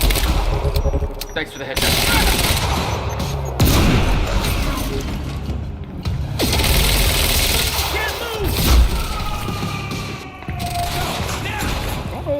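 Gunfire during a firefight on a blacked-out campus in the video game Quantum Break: dense, loud automatic bursts and mechanical clatter, mixed with crashes and voices calling over the shooting.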